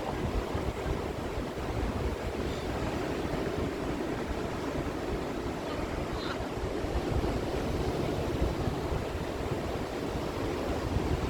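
Steady wash of ocean waves and surf with wind rumble at Aramoana beach near Dunedin, New Zealand, continuous and fairly loud, no voices.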